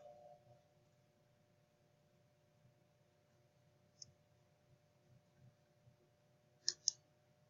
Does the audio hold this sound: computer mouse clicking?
yes